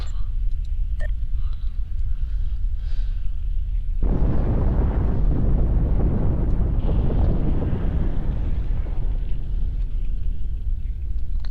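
A big explosion in the space game Star Trek Online bursts in as a loud, broad rumbling roar that swells and lingers for several seconds over a steady low background.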